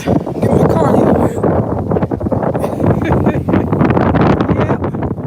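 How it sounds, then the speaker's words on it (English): Strong wind buffets the microphone outdoors on a sunny walk, a constant loud roar and rumble lasting throughout, with gusts rising and falling. "Sunny skies, very windy as you can hear."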